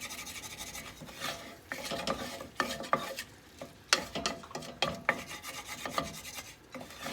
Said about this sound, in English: Gotta scrape up all this stuff off the bottom.